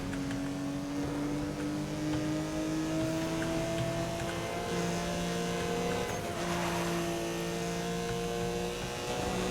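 An old Porsche races at speed in Need for Speed: Most Wanted (2012), its engine droning steadily with rising gear tones and a constant road roar, loud and continuous, with no talking.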